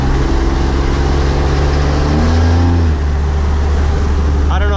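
A Cummins diesel pickup engine drones loud and close with a steady low rumble and rising tones as throttle is applied, its pitch dropping once as it shifts, while someone talks over it.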